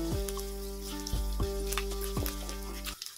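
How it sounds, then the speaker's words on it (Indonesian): Salted fish frying half-done in hot oil until lightly browned gives a steady, close sizzle, broken by several sharp clatters of a utensil stirring the pan. "Untuk ikan asinnya, di sini aku gorengnya cukup setengah matang aja ya."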